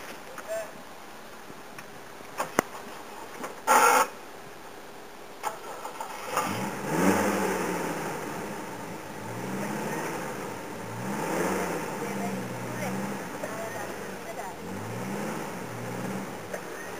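A car engine starts, then idles and pulls forward with rising and falling revs at moderate distance, after a quiet stretch with a few clicks and knocks; people speak faintly alongside.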